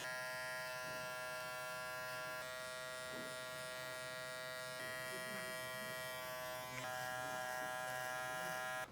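Electric hair clippers cutting hair clipper-over-comb during a classic slamback haircut: a steady, close, continuous buzz with slight shifts in tone as the blades pass through the hair.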